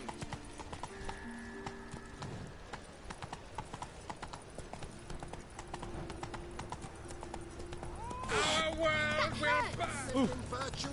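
Steady clip-clop of Roach's hooves trotting in The Witcher 3, a brisk even rhythm running throughout, with game music and a voice talking over it and a horse whinny near the end.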